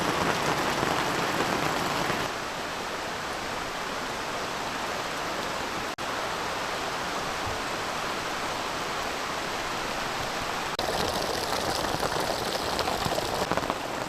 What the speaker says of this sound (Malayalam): രാവിലെ എഴുന്നേറ്റ് മഴ നനയേണ്ട അവസ്ഥ